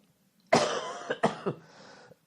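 A man coughs hard several times in quick succession, close and loud, with a rough throat-clearing quality as he struggles with hair caught in his throat, followed by a fainter trailing rasp.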